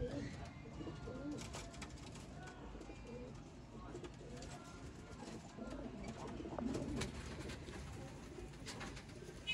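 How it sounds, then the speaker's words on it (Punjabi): Sialkoti pigeons with red pearl eyes coo repeatedly, close by, in a low steady murmur over a busy background of bird sounds. "ਲਾਲ ਮੋਤੀਆਂ ਵਾਲੇ ਕਬੂਤਰ।"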